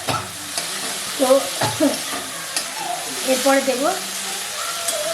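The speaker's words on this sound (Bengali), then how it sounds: "ভাজার পরে যে তেল ছিল ওর মধ্যে আমি পেঁয়াজটা দিয়ে, পেঁয়াজটা একটু ভাজা হয়েছে, তারপর ভেন্ডিটা দিয়েছি, একটা টমেটো দিয়েছি।" Onion, okra and tomato fry in oil in a pan while a spatula stirs and scrapes them, giving a steady close sizzle with repeated clinks and scrapes; a voice speaks briefly near the end.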